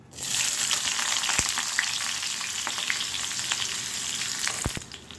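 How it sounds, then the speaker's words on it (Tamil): Loud, steady sizzling of onion frying in hot oil, with a few sharp utensil clicks against the pan. "எண்ணெய் சூடாக இருந்தோம் வெங்காயம் சேர்த்துக்கலாம்."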